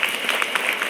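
Applause from a gathered audience, steady crowd clapping that fills the whole moment at moderate loudness with no break.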